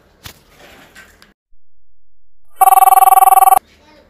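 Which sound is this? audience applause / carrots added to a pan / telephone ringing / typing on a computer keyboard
telephone ringing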